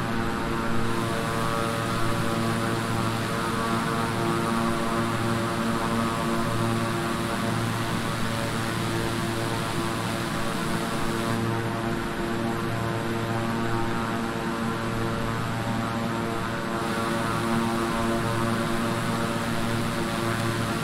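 A propeller aircraft engine in Microsoft Flight Simulator 2020 drones steadily after being throttled back, a constant loud tonal hum with a low rumble and no talking.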